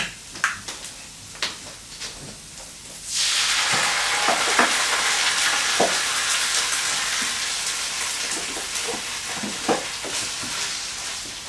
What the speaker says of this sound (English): So I'm going to add in the thick cut chopped tomatoes.